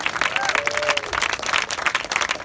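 Theater audience applauding the accompanist at the close of a musical comedy show, a full burst of clapping from many hands that stays strong throughout, with a brief cheer or whoop rising early on.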